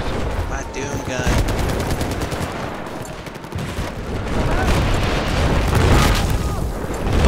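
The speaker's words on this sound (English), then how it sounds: "God, everything is exploding." Dense Battlefield 4 combat roars close and loud: rapid machine-gun bursts and gunshots mix with heavy booming explosions in a continuous barrage, with no clear break.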